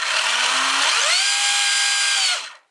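Axial Bomber RC crawler motor running in first gear, a loud, steady high-pitched whine that rises in pitch after a second, holds, then cuts off near the end, with no talking.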